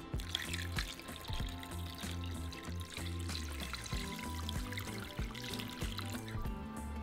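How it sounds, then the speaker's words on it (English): Water pours steadily into a cooking pot over pieces of pork with bay leaves and garlic, a continuous loud splashing and gurgling stream with no one talking. "we're going to cover our meat with water."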